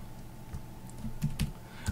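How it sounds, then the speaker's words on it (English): A command is typed on a computer keyboard in a Linux terminal session, with a handful of close, crisp key clicks in an uneven rhythm over a quiet background. "we would type mount"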